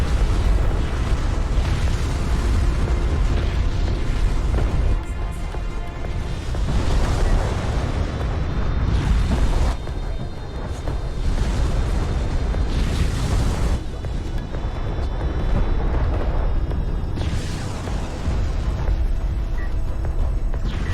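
Missile barrage explosions in the real-time strategy game Homeworld: Deserts of Kharak, heavy rumbling booms that swell and overlap in repeated waves over a continuous roar.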